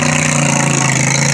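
A lawnmower tractor engine drones loud and steady at an outdoor bazaar tractor pull, a buzzing mid-pitched roar with a constant tone and no talking.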